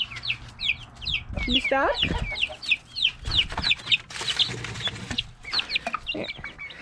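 A young hen clucks in quick, repeated close-up bursts, with one louder squawk near the start and a person speaking briefly over the chatter.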